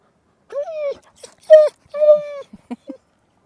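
An impatient dog whimpers and whines in a series of short, high, close cries with small gaps between them, outdoors at Engstlensee lake in Switzerland.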